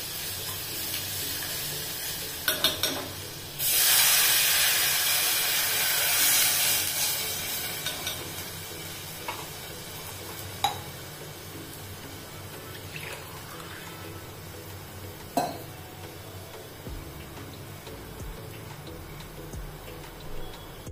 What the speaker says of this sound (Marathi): दोन ग्लास पाणी टाकलेलं आहे मी.